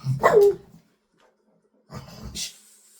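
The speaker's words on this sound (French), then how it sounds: "Excusez mon chien." A pet dog gives a short burst of barks at home, fairly close and loud, then falls silent before a second rougher, yelping bark follows about a second and a half later.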